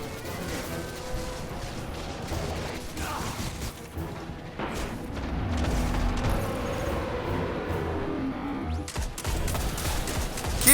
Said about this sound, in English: Machine gun with loud pew-pew noise that goes rat-tat-tat-tat-tat-tat-tat-tat-tat.